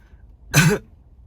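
A single short throat-clearing grunt, close and fairly loud, lasting about a quarter second amid quiet.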